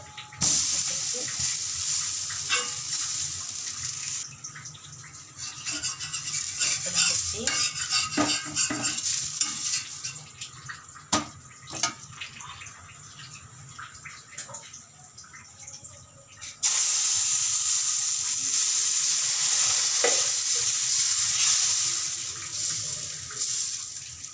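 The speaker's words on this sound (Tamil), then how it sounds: "தோசையை பெரட்டி போட்டுப்போம்." Dosa frying on a hot griddle, a steady sizzle with scraping and stirring clatter as it is flipped, loud and close with no talk.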